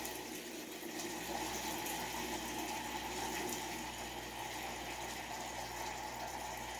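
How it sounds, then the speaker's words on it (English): Water siphoning out of an aquarium tank through a hose, a steady continuous trickling and gurgling flow at close range, alone with no talk. "And then it just starts siphoning."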